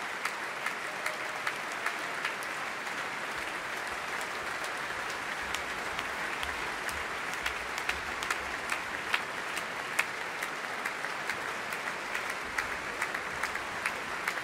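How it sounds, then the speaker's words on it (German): Enthusiastic concert-hall applause for an orchestra after Beethoven's Ninth Symphony at the Elbphilharmonie, a dense, even patter of many hands clapping throughout with no voices. "Frenetischer Applaus fürs Orchester."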